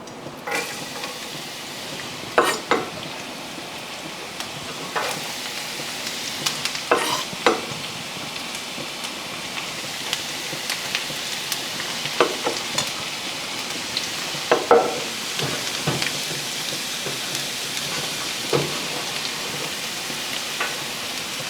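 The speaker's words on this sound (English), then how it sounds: "So let's toast our garlic." Garlic toasting in oil in a pan for gambas, a continuous close sizzle with repeated sharp scraping and stirring clicks scattered throughout.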